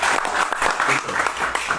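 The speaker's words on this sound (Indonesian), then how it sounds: "Tepuk tangan Bapak Ibu." Audience applause at a business seminar, loud continuous clapping from a roomful of people throughout, with some voices mixed in.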